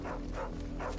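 Dog in the Final Fantasy XVI video game giving a few soft barks and yips, three short quiet bursts spaced at a quick rhythm over a low background hum.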